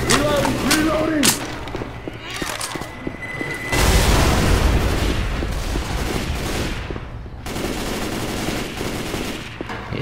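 A pipe bomb in Left 4 Dead 2 sets off a loud, broad blast near the middle, followed by rolling rumble, with bursts of gunfire before it and voices calling out around it.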